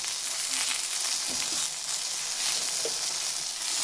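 Jujube chutney with salt and turmeric sizzling in a pan, a steady hissing fry with faint occasional stirring touches.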